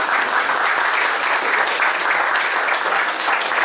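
Audience applause at an evening café-style cultural event, loud, dense and steady clapping from a crowd throughout, with no one speaking.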